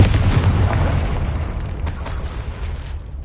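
A Confringo blasting spell detonates in Hogwarts Legacy, a deep rumbling boom whose low roar fills the clip and slowly fades, with no voices.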